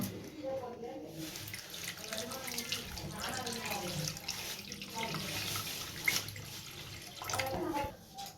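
Water pours steadily from a tap onto kneaded flour dough that is being left to soak for Tirunelveli halwa. The splashing and trickling continue close by for the whole stretch.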